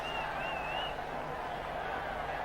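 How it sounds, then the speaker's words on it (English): A cricket stadium crowd at the 2005 India vs Sri Lanka one-day international in Jaipur roars as Tendulkar scores his first run, a steady, dense wash of massed cheering that holds at an even level throughout. "The crowd absolutely roared when Tendulkar got his first run."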